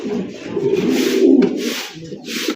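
Pigeons at a seller's stock of fancy racer, golla and giribaz birds coo steadily and close by, a low, continuous throaty murmur lasting the whole stretch with no talking.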